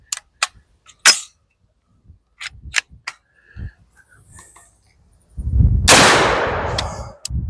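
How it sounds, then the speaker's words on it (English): A 50 Beowulf AR-15 rifle fires Alexander Arms hollow point rounds, one loud blast with a long ringing decay at close range, after a run of sharp clanks, clicks and handling noises. "I'm using 350 grain Hornady hollow, or I think these are actually Alexander Arms hollow points."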